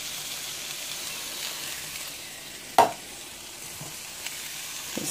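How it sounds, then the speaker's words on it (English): Corn and field peas stirred in a hot pan for chicken chilli pie, a steady low sizzle broken by one sharp utensil knock and a few faint taps, with no speech. "Stir this up."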